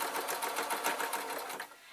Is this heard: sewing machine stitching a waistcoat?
yes